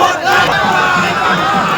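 Party workers chanting slogans together at a roadside election campaign in Berhampore, a loud crowd of voices shouting in unison throughout.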